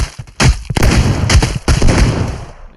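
A bloater explodes in the video game Voxel Playground: several loud, sharp blasts and rumbling bursts follow each other in quick succession, close and dominant.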